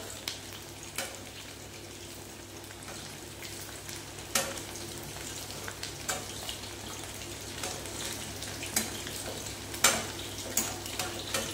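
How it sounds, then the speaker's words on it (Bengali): Chicken balls fry in oil until crisp, a quiet, steady sizzle punctuated by sharp taps and clinks as they are turned in the pan. "যাতে সবটা একটু ঘুরিয়ে ফিরিয়ে এভাবে করে মুচমুচে করে ভেজে নেওয়া হবে"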